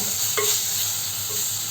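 Bottle gourd and tomato being stirred into a frying curry base, a brief close sizzle with a couple of soft scrapes, ending abruptly.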